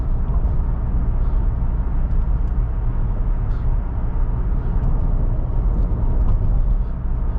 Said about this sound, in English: we'll go over these bumpy roads